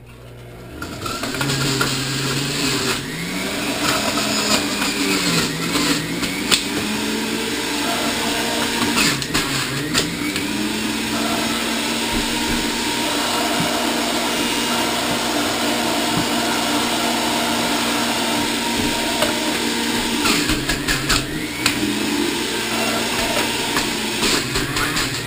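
An electric juicer works through five pounds of carrots, giving a steady, loud mechanical whir that runs continuously, with brief grinding surges and dips as pieces feed in.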